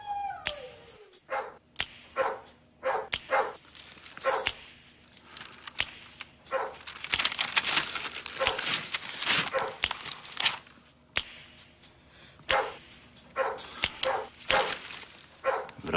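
A dog barks repeatedly in sharp, loud bursts, close by and at an irregular rhythm, with the barks spread through the whole stretch and almost no talking.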